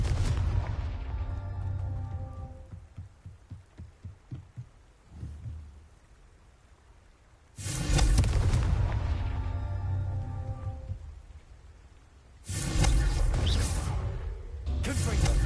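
Repeated Confringo blasting-spell explosions in Hogwarts Legacy, loud booming bursts arriving in several heavy waves with rumbling tails, separated by quieter stretches, with a voice calling out between blasts.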